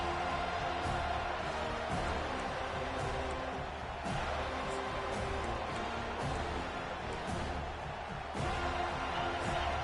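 Home crowd in the Madden football video game roars steadily as the defense tries to get off the field on third down, a dense, continuous wall of stadium noise with slight swells.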